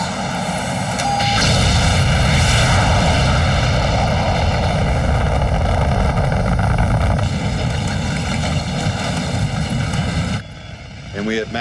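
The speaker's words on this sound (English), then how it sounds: "firing booster rockets" Spacecraft booster rockets in a movie launch scene fire as a loud, sustained roar that swells and holds steady before cutting off abruptly near the end, with voices talking over it.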